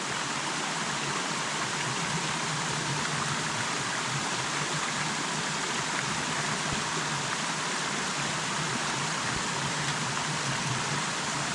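River water rushing during a major river crossing near Grafton Notch State Park, Maine, a dense unbroken broadband roar steady from start to finish, close and loud with no voices.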